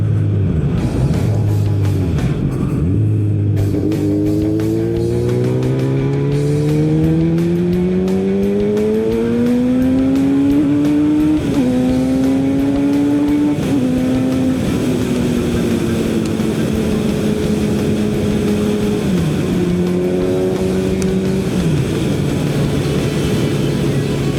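A Kawasaki Z900RS motorcycle with a four-into-one exhaust revs through rising and falling gears, its exhaust note climbing in pitch as it accelerates away, loud and continuous.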